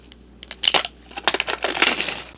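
A strip of diamond art kit gems is peeled back, giving close, irregular bursts of crinkly plastic crackling that grow denser toward the end.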